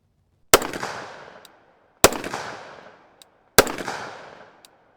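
Three sharp, loud 5.56 NATO rifle shots fired with a bare muzzle, spaced about one and a half seconds apart, each cracking hard and then trailing off in a long outdoor echo.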